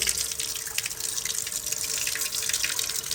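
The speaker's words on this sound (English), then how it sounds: "Turn the cold water on, put the plug in, very technical, and I'm going to wash it." Cold water pours from a tap into a plugged sink to wash a cyanotype print, a steady close splashing rush with light dripping and bubbling throughout.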